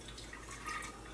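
Beer ice cream mix pours steadily into an ice cream maker, a continuous soft splashing trickle of liquid heard close up with no talking.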